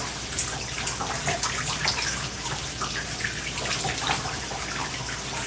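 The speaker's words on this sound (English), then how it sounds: "we're going to add some more water in here to give us some more slip" Water poured and squeezed through hair during a wash-and-go styling, a steady splashing, trickling wash like a running tap, close and continuous with no talking.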